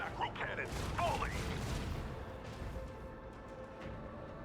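Macro cannons fire in the space strategy game Rogue Trader, a burst of booming shots that fades into a dull, rumbling tail, with a voice heard over the opening shots.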